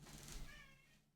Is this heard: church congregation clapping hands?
no